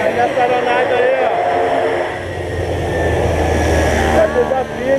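Light aircraft engine drones steadily before a skydive at a parachuting drop zone, a loud continuous roar that swells slightly, with people talking over it.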